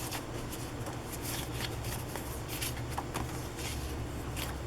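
Decorated paper library cards, envelopes and other handmade ephemera are shuffled and handled up close, giving a continuous soft papery rustle with small flicks and taps.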